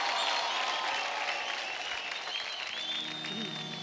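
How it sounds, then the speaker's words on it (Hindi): A television singing-contest audience in a studio applauds for ghazal singer Ranjit from Jaipur, a dense, loud wash of clapping lasting throughout, with a faint sustained tone and a murmur of voices toward the end. "तो हो जाए जोरदार तालियां जयपुर से यारा दी टोली के सिंगिंग स्टार प्रिंस ऑफ गजल रंजीत के लिए"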